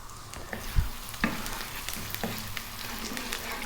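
Cumin seeds and fresh curry leaves frying in hot oil give a steady close crackling sizzle with a couple of sharp pops and scrapes, no one speaking.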